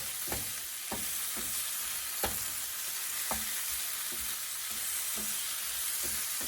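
Mushrooms stir-frying in a pan, a steady background hiss of sizzling punctuated by regular soft taps and scrapes of a utensil tossing them, close and even-paced, with no talking.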